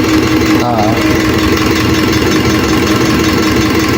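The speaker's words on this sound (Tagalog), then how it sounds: "yan talaga ang calibrating machine" A calibrating machine runs loudly and steadily, a constant mechanical drone with a rough, knocking texture that never lets up.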